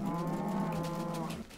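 Cattle lowing in a Minecraft-style farm game, a single long, steady in-game moo held for over a second at close range with no talk over it.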